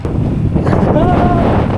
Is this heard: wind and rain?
yes